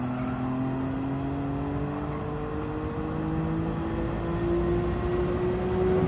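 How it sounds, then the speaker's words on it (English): An RB-engined car in Gran Turismo 7 accelerates, its engine note climbing steadily in pitch through a long pull, heard alone without talk. "they're okay sounding engines. They're pretty good."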